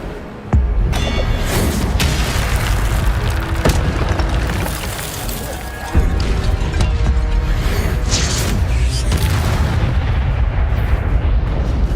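Fire spell cast in the video game Hogwarts Legacy, a loud continuous roaring, booming blast of flame lasting most of the stretch with a brief dip midway before surging again, dense and close with no talk.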